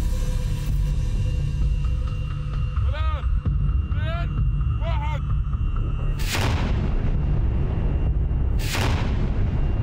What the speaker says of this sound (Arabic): يقومون بتجارب ناجحة لعملية تفجير